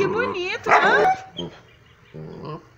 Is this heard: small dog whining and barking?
yes